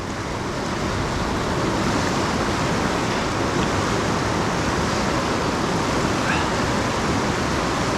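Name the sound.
river rapids rushing, Dartmouth Rapids at Ohiopyle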